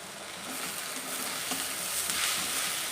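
Tomato going into onions already frying in hot oil for butter chicken masala, a steady, even sizzle that holds for a few seconds with no talking.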